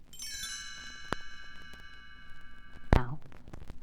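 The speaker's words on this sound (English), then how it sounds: "You will know it is time to turn the page when Tinker Bell rings her little bells like this." Tinker Bell's little bells ring as a page-turn chime on a 1965 Disney Lady and the Tramp read-along record: a bright cluster of tinkling tones that rings on, then a second sharp ding, fairly soft.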